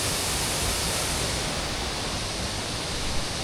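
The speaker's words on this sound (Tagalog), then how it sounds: "Tagbibinta Falls dito sa Maragusan, Davao de Oro." Steady, dense roar of Tagbibinta Falls waterfall at a mountain resort in Coronobe, Maragusan, Davao de Oro, a constant broadband rush filling the whole stretch with no voices.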